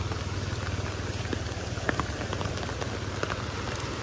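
Rain falling steadily on a field of onion seedlings during a sudden flood, a dense, continuous patter close by with no pauses and no voices.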